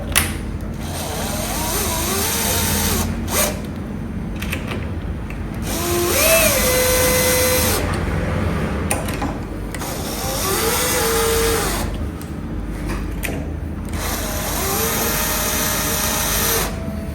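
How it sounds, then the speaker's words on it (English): Power tool driving screws into the mount of an emergency stop button on a CNC AutoBlaster 2, a continuous buzzing whir that rises and dips in several bursts over steady background hum. "put your screws in like so, and like Philip said"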